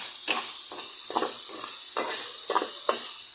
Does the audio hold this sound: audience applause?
no